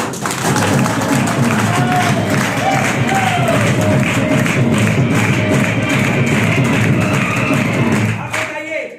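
A crowd at a Hindi business motivational seminar gives loud, sustained clapping, a dense rumbling roar of hands with scattered cheers, holding strong before cutting off near the end.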